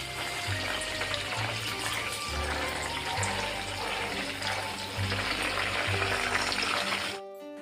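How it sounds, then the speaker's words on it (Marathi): Homemade granular desi ghee bubbles and sizzles steadily in a pan as it finishes cooking, a dense continuous frying hiss close by that cuts off abruptly at the end. "हे बघा कसे बुडबुड येत आहेत"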